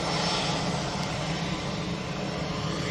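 An EasyJet airliner at Manchester Airport gives a steady, loud engine roar with broadband rushing noise that holds even across the whole stretch, with no voices.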